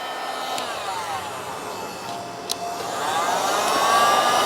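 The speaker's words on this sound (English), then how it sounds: "for this guy, we're going to use a heat gun just because it's a big, fairly large piece of wire" Heat gun blowing a steady airy whoosh while heating a solder stick connector on a large gauge wire, its tone rising slightly toward the end, with no talking.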